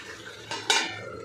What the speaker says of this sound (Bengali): একটু উলট পালট করে দেবো মাছগুলো। আবার একটু ঢাকা দিয়ে দেবো।